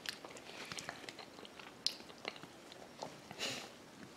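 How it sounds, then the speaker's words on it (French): A little girl bites into a banana and chews, soft close crunches and mouth sounds in short bursts, with a few sharper bites standing out against a quiet room. "elle est en train de manger une banane qu'elle partage avec moi"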